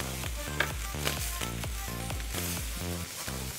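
Pork tenderloin searing in a pan over lowered heat, giving a soft steady sizzle under a strongly rhythmic, pulsing musical backing.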